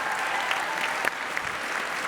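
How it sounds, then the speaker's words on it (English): An audience applauds during a women-in-STEM panel at the International Science and Engineering Fair, steady, moderately loud clapping throughout with a few sharper claps standing out. "Give yourself a round of applause."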